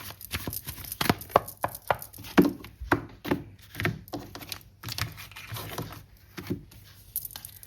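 A tarot deck is shuffled by hand close to the microphone, making a rhythmic run of crisp taps and slaps at a steady pace with brief gaps between strokes. Nobody speaks.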